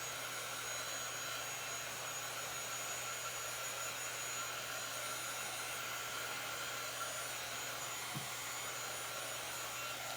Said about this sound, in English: So this is just an embossing gun.